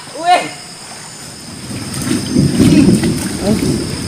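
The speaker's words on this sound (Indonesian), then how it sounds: "Suara gemuruh." Thunder rolls through heavy rain over a riverside forest, swelling into a loud, sustained low rumble midway and then easing off, with faint chirps and a brief voice near the start.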